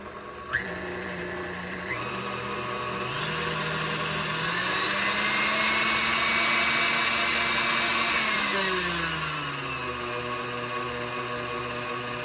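A KitchenAid KSM90 tabletop mixer with a grease leak runs with a steady whirring motor whine that rises and falls in speed, a faint rubbing noise underneath, loud and close.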